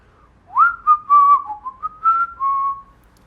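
A man whistles a short melodic tune by mouth, a series of clear, close, loud warbling phrases heard alone.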